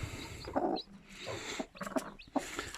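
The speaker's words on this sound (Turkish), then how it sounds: "İçinden cik cik cik ses geliyor zaten." Newly hatching chicks peep from inside cracking eggs, a few short high chirps in separate bursts over a soft background, close by.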